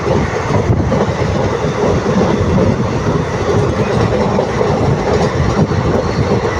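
A passenger train between Tiruchirappalli and Puducherry, India, rolls loudly along the rails, a continuous rumbling roar with rhythmic clatter of wheels, heard from on board or close by.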